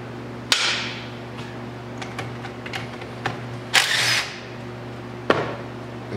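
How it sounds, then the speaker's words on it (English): A half-inch socket wrench or power tool works the rear brake caliper bolts on a Polaris Sportsman 500 ATV, heard as a few sharp close bursts and clicks separated by quieter pauses, with no talking. "So next I'm going to take the two bolts off the back. A half inch socket."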